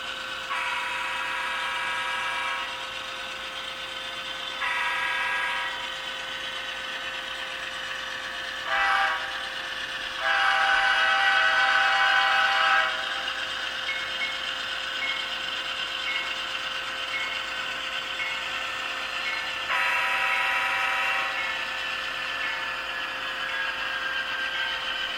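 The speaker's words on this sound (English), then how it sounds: "So there's just a quick little preview of the sound file that ESU provided for these locomotives." Model train locomotive sounds from an ESU LokSound decoder through a cube speaker, a steady electric motor hum under repeated multi-tone horn blasts of varying length, fairly faint and without talking.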